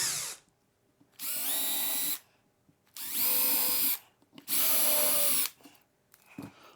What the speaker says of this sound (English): You really got to be careful with this one because this is a really thin drill bit.